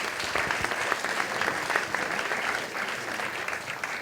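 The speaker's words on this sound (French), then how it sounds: "Laura, sous vos applaudissements" An audience at a student awards ceremony applauds as an honoree is called up, a steady roomful of clapping hands, moderately loud and even, continuing without a break for the whole stretch.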